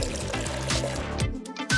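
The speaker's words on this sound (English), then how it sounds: "first pour the water into these cups" Water trickles and splashes steadily as it pours into cups in a kitchen, a continuous liquid gurgle that breaks off near the end with a short final splash.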